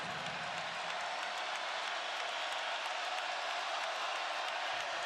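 A packed Value City Arena crowd roars steadily during an Ohio State versus Notre Dame men's college basketball game, a broad, sustained wall of cheering and clapping with no breaks.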